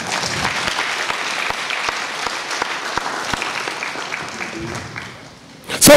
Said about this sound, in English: Give God a clap of praise.